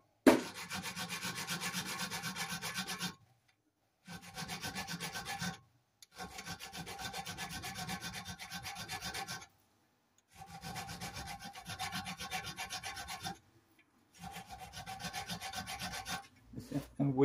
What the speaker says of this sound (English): I'm just going to file the top off it first.